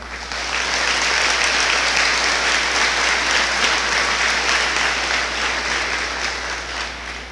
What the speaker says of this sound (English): I think all of our valedictorians deserve one more round of applause.